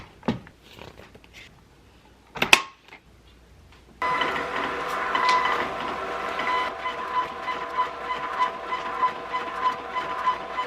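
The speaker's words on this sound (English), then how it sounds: "Now I'm printing out my shipping labels." A home printer running off shipping labels at a small fiber-art business, its steady mechanical clatter starting abruptly after a few quiet seconds of faint handling noises, then running continuously with rhythmic clicking pulses, moderately close.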